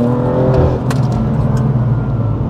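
A BMW M4 GTS engine revs loudly up close, a deep throaty roar with a rising rev early on, then steady rumbling power.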